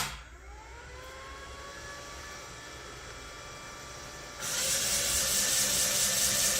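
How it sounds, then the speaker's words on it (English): A Briggs & Stratton electric outboard motor running on a LiFePO4 battery spins its propeller with a steady rising whine over a hiss, then a louder broadband rush takes over near the end. "And the propeller is definitely spinning."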